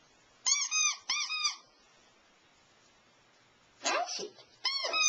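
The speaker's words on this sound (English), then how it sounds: "Squeak it for him." A squeaky dog toy squeezed for a puppy gives three bright, close bursts of squeaking: two quick pairs near the start, then a longer squeak at the end after a quiet gap.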